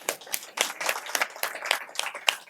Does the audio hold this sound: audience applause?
yes